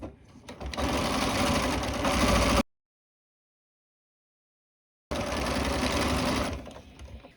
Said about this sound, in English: I'm just going to sew along this bottom edge.